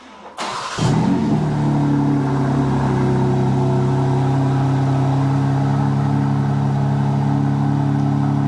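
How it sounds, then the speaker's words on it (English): A 2024 BMW M3 engine fires up from cold, catching in a sharp rev flare before settling into a loud, steady high idle with strong low harmonic drone, close and alone. "So we're gonna go ahead and give it a cold start"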